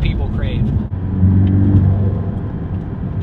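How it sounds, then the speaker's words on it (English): A Porsche 718 Boxster S sports car's engine hums low and steady, with a faint turbo spooling up briefly. A person talks over it. "You can kind of hear the turbo spooling up a little bit."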